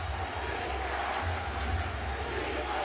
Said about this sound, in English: Chant of defense from this crowd here in Los Angeles as Parker is able to knock it down.